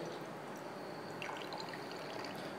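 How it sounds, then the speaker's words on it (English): Water trickles steadily out of a separating funnel as it is drained off from oil in a chemistry class demonstration, a soft continuous pouring hiss with no talk. "So when I open this, then the water molecule, water is separate out."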